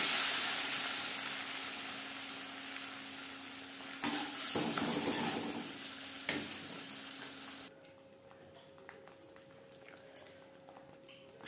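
Dried red chili and cumin fry in hot oil in a pan, a close steady sizzle with stirring scrapes and clacks, then the sizzle drops away to a quieter simmer.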